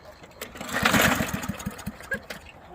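A diesel lawn mower engine chugs during a fire-breathing torture test, with a loud, close run of rapid, regular thumping pulses that rise to a rough roar and then stutter.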